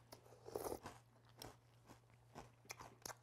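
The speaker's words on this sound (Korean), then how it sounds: "역시 시리얼은 바삭하게 먹는 게" Crunchy organic chocolate cereal is eaten close up, with a quiet series of crisp bites and chewing crunches in irregular bursts and no talk over them.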